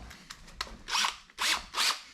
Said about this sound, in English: maybe not an impact, but a drill